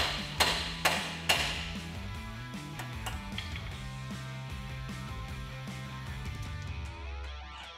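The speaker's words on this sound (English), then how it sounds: "We're gonna hit this collar with a hammer to knock the taper on the ball joint loose" Hammer blows ring out on a steering knuckle collar to knock a ball joint taper loose during a front suspension lift on a 2007-2018 Chevrolet Silverado 1500: three sharp metallic strikes early on, then a lingering ringing tail.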